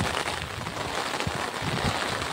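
Rain falls steadily outdoors under a cloudy sky, a continuous close hiss of drops with no voices over it.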